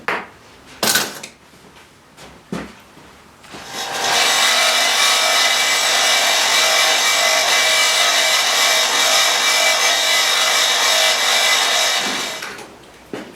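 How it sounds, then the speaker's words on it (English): A metal bolt is ground down on a sander in a home garage during a fighter build. A few knocks come first, then a loud steady grinding whine runs for about eight seconds and cuts off. "I'm just going to grind those down on the sander nice and carefully"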